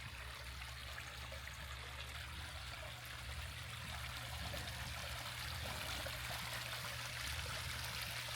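Homemade backyard waterfall fountain trickling steadily, a continuous close splash and dribble of water with no voices.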